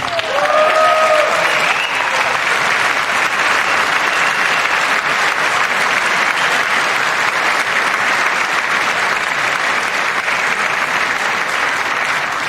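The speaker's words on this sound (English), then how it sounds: "I wasn't sure if anybody even on this side was going to applaud for that" Sustained applause from lawmakers filling the chamber of the U.S. Congress, a dense steady roar of many hands clapping at full volume throughout, with a few brief raised voices at the start.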